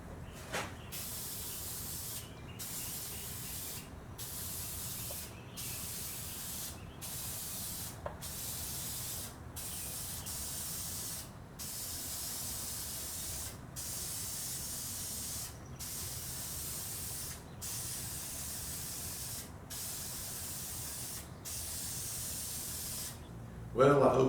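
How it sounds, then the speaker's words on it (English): Spray lacquer hisses onto a handmade wooden roll top bread box in a workshop: long, steady, close bursts of spray separated by short regular pauses as the trigger is released. "And we'll do some spray lacquer."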